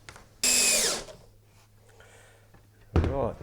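A power drill whirs loudly in a short burst driving screws into a roof ridge cap, winds down, then a quieter mechanical lull follows before the drill kicks in again briefly.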